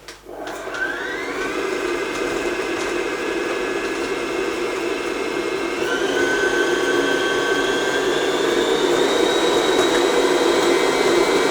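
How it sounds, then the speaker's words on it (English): Stand mixer with a paddle beater creaming butter and sugar gives a loud, steady motor whine that rises slightly in pitch as it runs, continuous and close, with no voices. "fitted with a paddle beater. I'm just going to cream the butter and sugar together."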